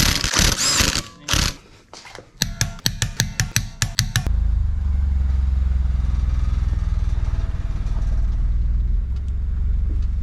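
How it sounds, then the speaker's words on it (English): A Mazda 3 Turbo fitted with a new CorkSport 80mm exhaust makes a rattle that shows up only in reverse. A few loud bursts and a quick run of sharp clicks give way to a steady, close, low engine rumble carrying a fine, continuous rattling buzz. "What's that rattle?"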